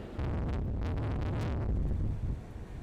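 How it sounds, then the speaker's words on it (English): Steady, heavy wind buffeting the microphone with a constant roar at Jennette's Pier, with rough surf of 10 to 15 foot waves in the background. "It's very windy and the waves are very rough"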